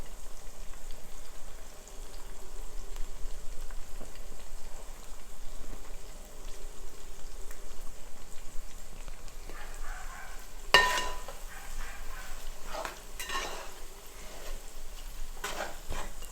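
Asafoetida powder sizzling in hot coconut oil while making mango pickle, a steady soft crackle of frying with a few sharper pops and stirring clicks toward the end, no talking.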